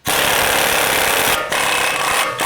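Continuous loud grinding rattle of a power impact tool spinning out the 18mm brake caliper bolts on a 2022 Chevy Trail Boss during a lift kit install, running steadily with two brief dips.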